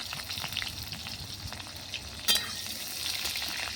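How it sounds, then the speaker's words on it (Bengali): Sliced onions fry in oil for birista on a clay stove, a steady close sizzle with a brief clink partway through. "প্রথমে বেরেস্তাটা ভেজে নেবো।"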